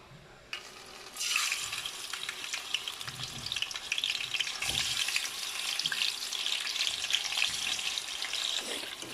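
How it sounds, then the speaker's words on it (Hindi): Raw chicken, about a kilo, sizzles loudly in hot oil for a Chicken Karela dish, a steady crackling fry that bursts in after a brief quiet start and holds on without any talk. "इसको मैं इसी ऑयल में डाल दूँगी और इसको अच्छे से हम फ्राई कर लेंगे"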